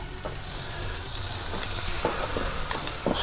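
Vegetables, including spring onions, frying in a pan beside steak, a loud, steady hissing sizzle with a few soft stirring knocks, close and without talk.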